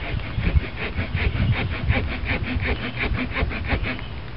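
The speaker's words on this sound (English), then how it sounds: "We're going to saw into this." A hand saw cuts into a piece of wood to make a tarp pin, with quick, even back-and-forth rasping strokes close by and nothing else heard.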